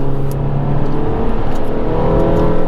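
A Mini sports car's engine accelerates hard on a test track at Millbrook, a loud, close, steady rising drone with a rough pulsing texture throughout and no talk.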